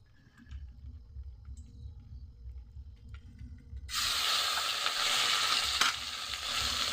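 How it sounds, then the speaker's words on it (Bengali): Chicken pieces for a chicken and cauliflower curry fry in a pan, with a quiet start and then a sudden, loud, steady sizzle that carries on to the end. "মাংসটা ভেজে নেবো"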